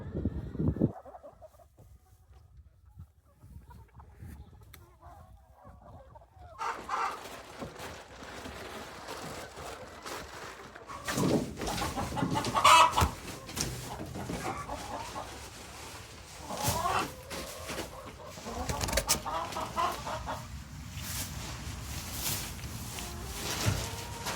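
Young laying hens clucking and chattering as they are moved into mobile coops on a family farm, a busy flock of overlapping clucks and squawks that grows louder after a quiet opening, with rustling and handling noises.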